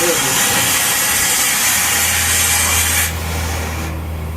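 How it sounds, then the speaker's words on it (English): Working steam engine at Burnaby Heritage Village Museum, its piston driving a crank, gives a loud, steady mechanical rumble and hiss with a low hum; the hiss drops off partway through. "We now have our engine going."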